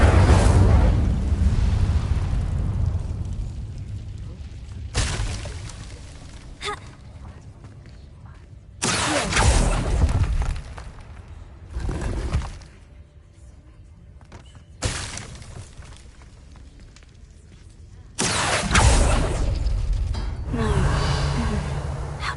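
A fire spell cast in the game Hogwarts Legacy sounds as repeated whooshing bursts of flame and crackling blasts, several loud surges separated by quieter gaps, with gasps and voice sounds between them.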